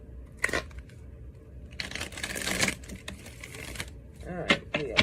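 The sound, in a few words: tarot cards being shuffled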